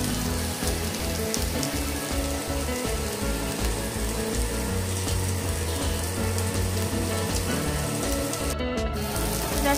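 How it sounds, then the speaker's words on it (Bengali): Potato pieces spread out in a pan to fry on one side, giving a steady, loud, continuous sizzle that holds evenly throughout. "এটাকে চারিদিকে কেমনভাবে ছড়িয়ে দিলাম, যাতে এক পিঠ খুব ভালো করে সব কিছু ভাজা হয়"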